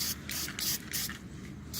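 Aerosol spray paint goes on in a light coat over a rust repair on a BMW 325i, heard as about six short, close hissing bursts with brief pauses between them.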